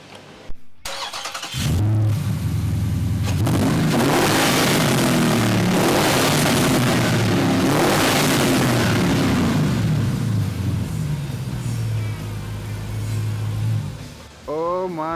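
A handcrafted Bufori luxury car engine cranks and catches, then roars and revs loudly close by, holding a steady rumble before easing off, with voices exclaiming over it.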